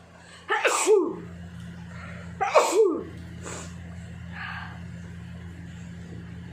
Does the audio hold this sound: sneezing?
yes